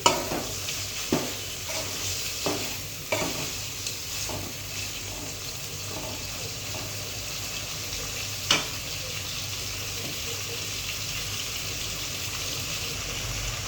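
Bitter gourd curry with turmeric sizzles steadily in a village-style pan while a spoon stirs it, leaving several soft scraping knocks early on and one later over a quiet, even frying hiss.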